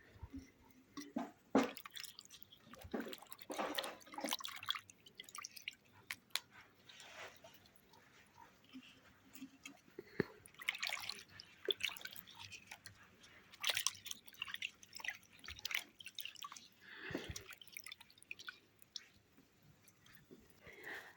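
Cherry leaves rinsed in water: soft, close, intermittent splashes, squelches and drips, quiet overall and scattered irregularly throughout.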